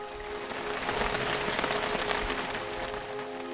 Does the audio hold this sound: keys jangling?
no